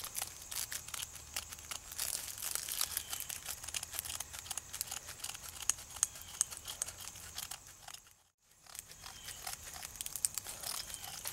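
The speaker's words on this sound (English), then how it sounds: "get me a little pile of this magnesium carved off here, and I'm gonna try to carve it in this leaf" Magnesium shavings are scraped off a block onto a leaf with a blade, giving a faint, continuous dry crinkling and scratching close by, with a short pause near the end and no talk.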